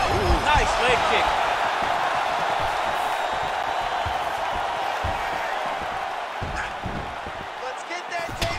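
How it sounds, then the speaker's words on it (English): An MMA crowd reacts as calf kicks land in a caged fight. The dense arena roar of cheers and shouts runs steadily throughout, with a few sharp impacts scattered in it. "you can hear the crowd as yet another calf kick lands"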